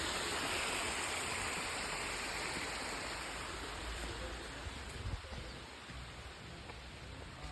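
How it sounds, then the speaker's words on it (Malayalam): Steady rushing water of a small waterfall on a hill in Kannur, Kerala roars continuously, a dense broadband wash, with faint bumps and movement near the recorder. "ചെറിയ വെള്ളച്ചാട്ടം."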